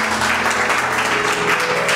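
A church congregation applauds at a joyful worship service, with dense, continuous clapping and some cheering filling a reverberant hall.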